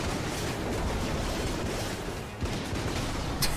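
Rapid gunfire from the commando gun in Enter the Gungeon, a dense burst of overlapping shots with loud, continuous crackle, a brief dip, then more firing and a sharp final report.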